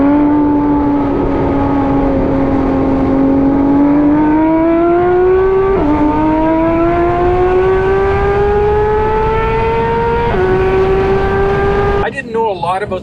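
A Porsche GT3 RS engine screams toward nearly 9,000 rpm, its loud, close wail rising steadily through two gear changes before cutting off near the end.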